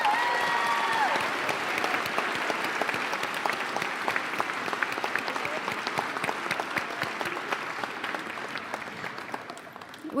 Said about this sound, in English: Let's give the class of 2026 one last big round of applause